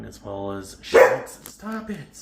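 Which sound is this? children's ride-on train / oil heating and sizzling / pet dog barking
pet dog barking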